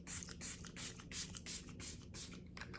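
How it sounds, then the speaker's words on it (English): Milani Make It Last setting spray misted onto a face in a rapid series of about ten short, soft hissing puffs in quick rhythm, close to the microphone and fairly quiet, with no speech. "This is the Milani Make It Last Setting Spray"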